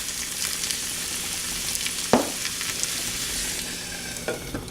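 Rosemary and garlic with onion frying in a pan for rosemary-garlic potatoes, a steady, fairly loud sizzle broken by one sharp scrape of a utensil midway and a softer one near the end, with no talking.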